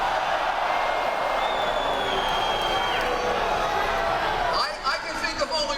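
Dense crowd noise at an outdoor political rally, a steady wash of cheering and shouting voices that holds loud and unbroken before thinning slightly near the end.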